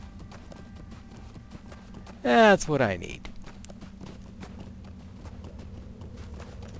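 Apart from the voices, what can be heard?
horse hooves clip-clopping in a video game, Lord of the Rings Online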